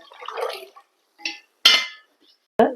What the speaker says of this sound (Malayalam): ഇതിന് അഞ്ച് ഗ്ലാസ് വെള്ളം ഒഴിക്കണം